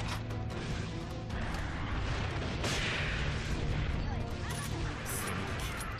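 Explosive rounds fired in the action game Toukiden: Kiwami pound in a continuous, loud barrage of blasts and metallic clatter, dense and close throughout.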